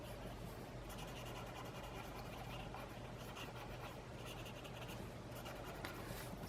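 A soft Prismacolor colored pencil rubs and scratches steadily across paper while blending, a faint, continuous, close-up grainy stroking with no pauses.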